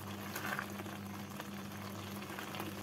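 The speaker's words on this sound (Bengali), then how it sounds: "ছানা দিয়ে মিশিয়ে নেওয়ার পর গুড় থেকে যে জলটা উঠেছে সেই জলটাকে কিছুটা শুকিয়ে নেব।" Jaggery liquid mixed with chhena, cooking down for carrot sandesh, simmers with a faint, even bubbling hiss that stays soft and close throughout, with no voices.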